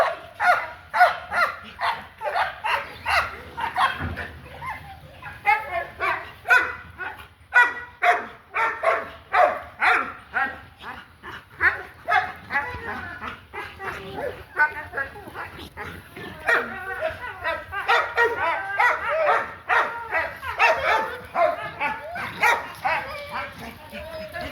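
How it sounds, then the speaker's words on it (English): Two American pit bull terriers play in a kennel, trading steady, loud barks and yips with growly, whimpering play noises running throughout. "2 dogs being dogs."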